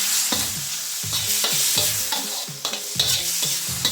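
Oyster sauce being stirred in a pan with a spoon, scraping strokes repeating about every half second over a continuous frying sizzle, close and fairly loud.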